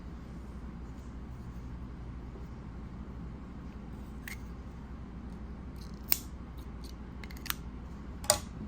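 Scissors cutting a crochet yarn tail, a few crisp snips near the end over a quiet, faint background hum, close and brief with no talking.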